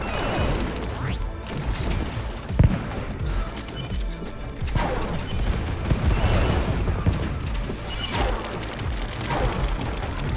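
Dense, continuous gunfire from the Warden's Will co-op third-person shooter as the player spins in a circle shooting enemies, with rapid shots and crashing impacts running throughout and a sharp loud hit near the middle.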